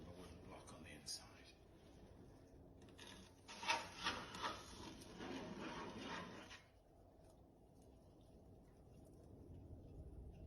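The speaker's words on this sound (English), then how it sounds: "So I've got my metal rib on the outside and my wooden block on the inside." Metal rib and wooden block shaping wet clay on a spinning pottery wheel, a soft continuous rubbing and scraping that swells in the middle, quiet and close.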